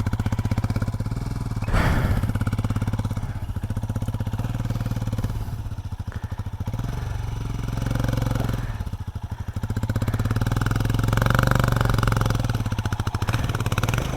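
A Royal Enfield Himalayan motorcycle labors up a hard enduro hill climb, its close single-cylinder engine thumping loudly and steadily with surging revs and brief clattering dips.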